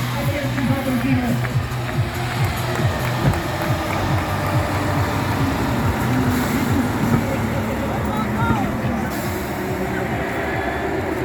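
A heavy railway vehicle with a Tatra 930 twelve-cylinder engine runs loud and close in a locomotive race at a steam nostalgia rail event, a dense rumbling drone with rhythmic clatter and a faint squeal.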